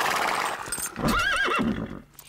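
A restless horse newly brought into its stall gives a loud, close whinny with a rising and falling wavering pitch, preceded by shuffling and stamping, then fades off.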